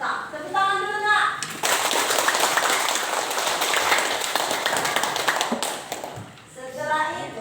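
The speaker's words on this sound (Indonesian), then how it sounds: "Tepuk tangan dulu nak." Children in a classroom clap their hands together in a dense burst of applause lasting several seconds, with a teacher's voice speaking before and after it.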